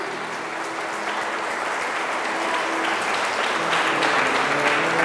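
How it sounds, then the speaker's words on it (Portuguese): A church congregation claps steadily during a parish sermon, a dense, even wash of applause that swells slightly toward the end, with no talking over it. "aplauda Jesus com alegria"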